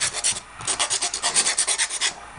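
A large file rasps along the rounded leading edge of a 3D-printed e-NABLE Talon Hand 2.0 knuckle block, making a close, steady run of rhythmic back-and-forth scraping strokes with no voices.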